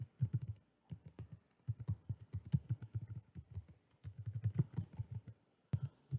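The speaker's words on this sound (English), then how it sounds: "Sometimes students get carried away when they see a search box and they start typing immediately" Fingers tap rapidly on a computer keyboard, a close, dry clatter of uneven keystrokes in bursts with brief pauses between them, no voices.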